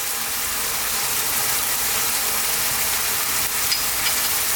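Onions and garlic ginger paste fry in a pan, making a steady, dense hiss of sizzling oil heard up close with no talking.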